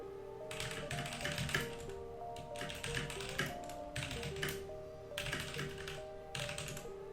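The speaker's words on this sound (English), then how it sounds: "give this a shot and do a little bit of typing on it later" Typing on a HyperX Alloy FPS RGB mechanical keyboard, with steady bursts of quick key clicks separated by short pauses and an underlying tonal hum, close and fairly quiet.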